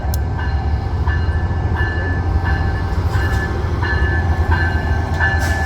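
Passenger train at a station, a steady loud rumble of railcars rolling close by, with a repeating clickety-clack and a faint horn tone, no talk.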